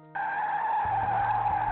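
A car skids with a loud, sustained tire squeal that starts abruptly and holds steady, with low rumbling thuds entering partway through as the vehicle slides, the driver having fallen asleep at the wheel.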